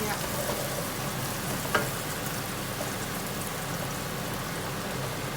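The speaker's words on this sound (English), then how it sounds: "The onions are caramelizing beautifully." Onions for a Lamb Sindhi biryani fry in a pan, giving a dense, even sizzle close by with one brief knock partway through, heard with no speech.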